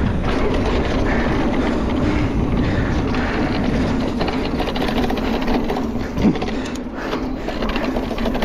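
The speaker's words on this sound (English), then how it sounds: "this bike rattles like crazy though" A mountain bike rattles loudly and constantly while being ridden, a dense clattering rumble over steady motion noise.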